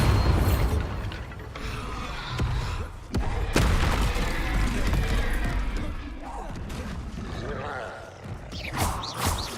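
Bombarda blasting spell from Hogwarts Legacy, a series of booming explosive bursts and thuds rolling over dense game effects and mechanical rumble, loud and continuous with sharp hits near three and four seconds.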